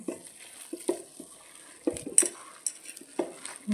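A spoon stirs grated ginger and garlic into a mixture in a bowl for red leaf vadi, giving soft scraping taps and clinks in short bursts, fairly close with quiet pauses between.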